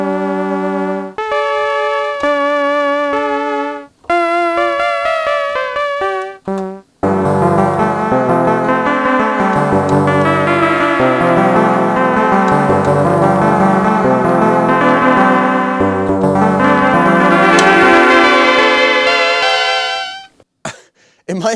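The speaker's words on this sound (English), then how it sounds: "Let's try the trumpet with the vibrato." Trumpet voice with vibrato on a Kawasaki Kids toy keyboard: a few separate held notes give way to a long continuous run of wavering, buzzy brass-like chords and phrases, loud and close throughout, with no talking.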